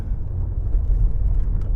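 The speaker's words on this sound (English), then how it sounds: "She is changing gears and she's stopping." A Mercedes S55 AMG that is badly out of alignment and showing a brake assist error rolls along with a steady, close, low engine and road rumble heard from inside the car.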